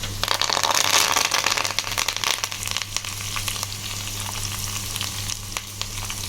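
Dried red chilies and curry leaves fry in oil with garlic, making a steady, close sizzle with crackles and stirring scrapes that starts loud and settles slightly softer. A low hum runs underneath and no one talks.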